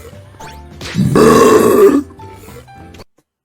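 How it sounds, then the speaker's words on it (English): A person belches loudly and close into a microphone, one long drawn-out burp lasting about a second with shorter throaty grunts around it. "burping in my ear"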